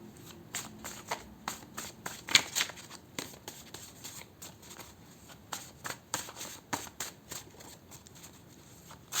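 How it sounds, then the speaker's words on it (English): Shuffling and pulling tarot cards, heard as a steady series of quick, close papery riffles and slaps with brief pauses between bursts, no voice over them. "I'm gonna pull some health and lifestyle cards for you."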